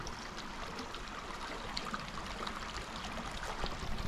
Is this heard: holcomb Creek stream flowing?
yes